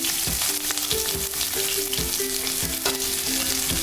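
Cumin seeds, chopped green chilli and onion sizzle loudly in hot mustard oil in a pan, with steady close frying hiss and repeated scraping stir strokes and utensil clinks.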